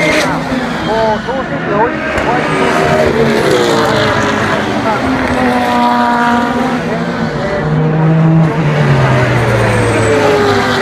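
Super GT race cars at Okayama roar past on the circuit. Loud engine notes rise and fall as the cars pass, and excited commentary runs over the sound throughout.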